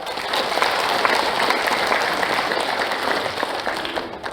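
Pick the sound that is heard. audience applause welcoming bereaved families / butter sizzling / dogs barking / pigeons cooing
audience applause welcoming bereaved families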